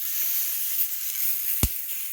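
Poblano peppers and tomatoes roast in a pan with a soft, steady sizzle throughout, broken once by a single sharp knock or clatter near the end.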